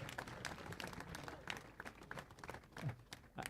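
Applause from an audience at an inauguration ceremony, steady crowd clapping held at a faint, distant level throughout with only a little background murmur.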